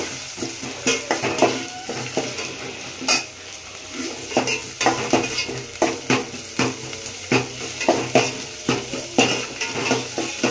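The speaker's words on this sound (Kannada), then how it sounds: "ಚೆನ್ನಾಗಿ ಫ್ರೈ ಮಾಡ್ಕೊಳ್ಳೋಣ." Ingredients for vegetable sambar fry in a pan, a constant hot sizzle broken by repeated scraping stirs and light clinks of a spoon against metal, close and fairly loud, with no one talking.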